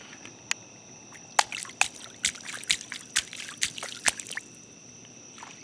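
Splashing through a puddle outdoors: a quick series of irregular wet slaps and drips, close and moderately loud, with a faint high steady tone underneath.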